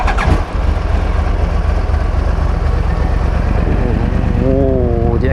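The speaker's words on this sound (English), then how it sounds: "let's fire up the engine." A Yamaha YZF R1 1000cc superbike engine catches and settles into a loud, close idle, then rises into a short rev with climbing pitch near the end.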